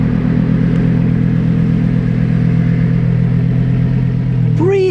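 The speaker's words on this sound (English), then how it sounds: "Okay, that's definitely the Sterrato. Nice downshift." Lamborghini Huracan Sterrato engine holding a steady, loud drone on the road, with a sharp rising rev blip from a downshift near the end.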